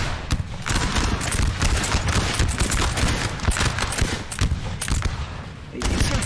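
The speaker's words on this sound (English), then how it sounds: "They do start firing really fast, though." Massed musket volleys in Napoleon Total War's Battle of Talavera roar almost without pause, a loud, dense wall of overlapping gunfire with occasional heavier thumps and a brief lull near the end.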